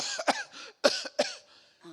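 A voice imitates an old man's harsh coughing, three sharp bursts spaced about half a second apart, followed by a softer throaty trail.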